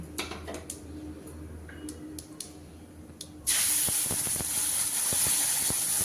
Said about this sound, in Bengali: এবার আমি ভাজা মশলার যে একটা পেস্ট বানিয়ে রেখেছিলাম সেই মশলার পেস্টগুলো দিয়ে দিচ্ছি